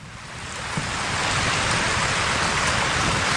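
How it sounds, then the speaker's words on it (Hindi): Heavy rain falling steadily outside a hot tent, a dense continuous hiss of drops drumming on the surface that swells in the first second and then holds loud and even, with no voices. "बाहर बारिश हो रही है, बहुत ज़्यादा बारिश बहुत तेज़ हो रही है।"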